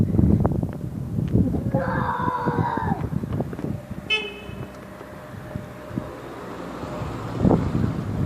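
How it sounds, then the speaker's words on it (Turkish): Strong wind buffets the camera microphone outdoors in heavy, uneven rumbling gusts, while a car horn toots briefly and traffic passes nearby. "Burada yüksek bir seviyede rüzgar var."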